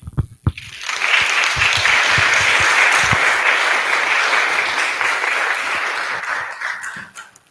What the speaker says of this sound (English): Let's give all of our panelists another round of applause.